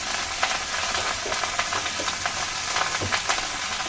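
Red amaranth greens fry and get stirred in a pan with salt, a steady close sizzle broken by scraping stirs and light clatter, no voices.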